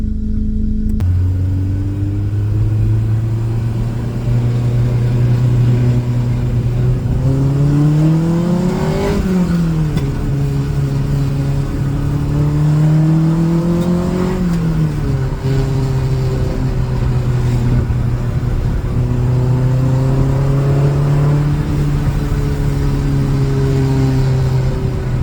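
A Honda VTEC car engine revs and accelerates on a short drive around the block, its tone climbing and falling through repeated gear pulls, loud and close, with no talking.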